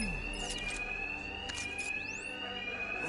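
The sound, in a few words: alarm sounding in Batman: Arkham Knight video game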